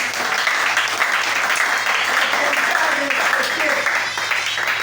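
A church congregation applauds loudly and steadily throughout, with a voice talking over the clapping.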